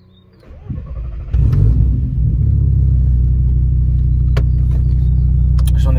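Car engine heard from inside a personal car: a low rumble swells as it comes to life, then settles into a loud, steady idle drone from close by.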